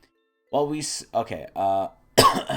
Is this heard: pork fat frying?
no